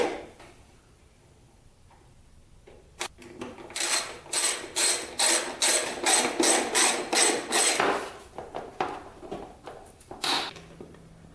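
On a Kawasaki KX420 dirt bike, a ratchet clicks in a fast, regular run of close strokes, led by a few scattered metallic taps and trailing off into looser clicks, with no talk.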